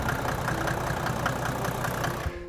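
An old-fashioned Mercedes diesel engine, already warm, idling steadily up close with a low knocking clatter and a continuous rumble that cuts out abruptly near the end.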